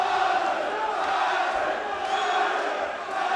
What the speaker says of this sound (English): Listen to that crowd, Charlie.